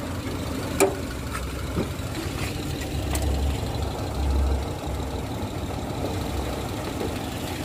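A 1993 Suzuki Katana GX engine idles with a low, steady rumble, with a few faint clicks and knocks over the top.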